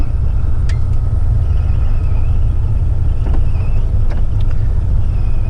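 A loaded heavy haul truck rolls along with a loud, steady low engine and road rumble, wind buffeting the cab and a few faint creaks and clicks on top.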